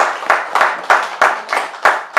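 A church congregation claps together in a steady rhythm to acclaim the Lord, about eight sharp, loud, evenly spaced claps with no voices.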